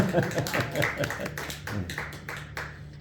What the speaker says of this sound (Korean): 목사님도 오늘 새롭게 벤스 같은 차를 사가지고 이렇게 오셨는데 저 축하 박수 한번 해주세요.